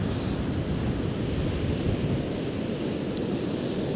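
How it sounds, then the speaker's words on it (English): Sea waves crash against rocks on a beach at Happisburgh, a continuous loud roar of surf with wind buffeting the microphone and no voices. "the waves are just crashing off those rocks"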